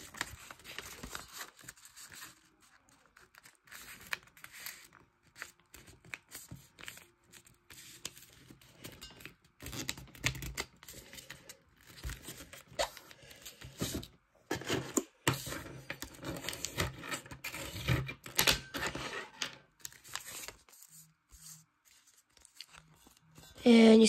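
Sheets of origami paper being folded and creased into a spy plane, giving irregular crinkling and scraping close by for a long stretch, with faint talk mixed in.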